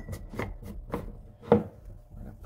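Tinfoil is pressed and crinkled over the top of a jar for liquid culture, a handful of short crisp crackles and rustles close by, with no talk.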